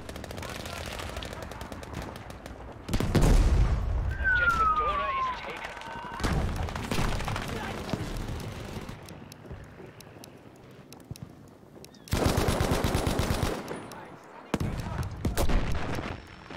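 Gunfire in the Battlefield 5 video game during a tank encounter, heard as bursts of rapid shots in several clusters separated by quieter stretches, fairly close and loud.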